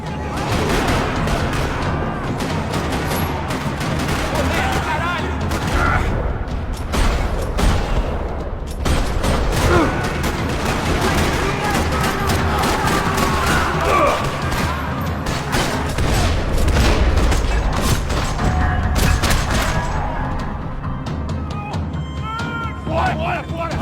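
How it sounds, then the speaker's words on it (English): Dense, continuous gunfire from the video game Max Payne 3, with rapid bursts and heavy booms, loud and close, with voices occasionally heard beneath the shooting. "Another parking lot rattling with gunfire."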